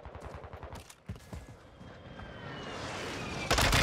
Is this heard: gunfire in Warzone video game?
yes